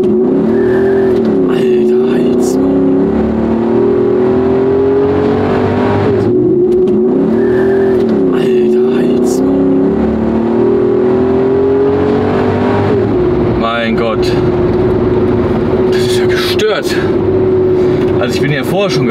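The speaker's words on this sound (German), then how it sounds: "Also ich drehe einfach mal Vollgas rein jetzt." A Mercedes 190E revs hard at full throttle, its steady engine drone loud and close throughout, with a brief higher squeal near the end while someone talks over it.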